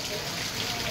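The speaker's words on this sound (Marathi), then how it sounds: "छान पाऊस पडतोय" Rain falls steadily in a dense, even hiss during a Janmashtami gathering, with speech faintly present beneath the downpour.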